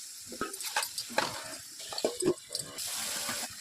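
Water poured into a pan of chicken with turmeric, chilli, coriander, salt and tomato cooking in hot oil for a kadali bada curry, splashing and running with brief clatters and sizzle, close and moderately loud.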